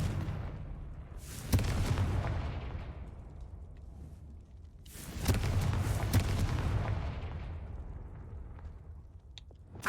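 Two booming fire blasts from the Confringo spell in Hogwarts Legacy, each a sharp crack followed by a long rumbling decay, heard alone without talk.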